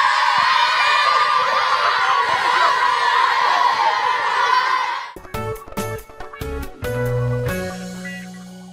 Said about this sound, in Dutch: Maar wel een groot applaus voor die.